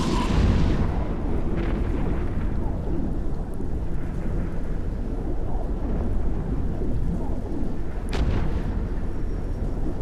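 Rattlesnake battleship blowing apart as it is destroyed in the space game EVE Echoes: a dense, sustained rumbling roar of explosion with thunder-like booms and a sharper burst near the end, loud throughout.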